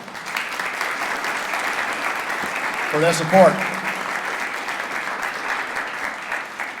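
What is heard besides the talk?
audience applause for the safety department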